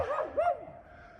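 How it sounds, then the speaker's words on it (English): A dog gives a single short yelping bark followed by a brief whine, close and fairly clear, with no talking. "you don't want to stop a dog from barking because he's just doing his job"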